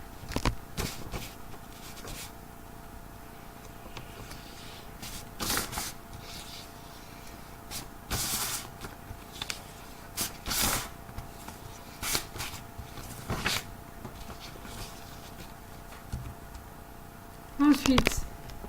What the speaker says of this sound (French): il me suffit donc de coller mon papier tout autour de ma boîte